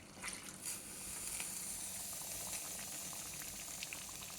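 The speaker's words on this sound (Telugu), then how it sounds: "ఈ మసాలా నీళ్ళు కూడా వేసేస్తామండి." Spiced water poured into a pan of simmering stuffed brinjal curry (guthi vankaya kura), a faint steady bubbling and hiss with soft splashes early on.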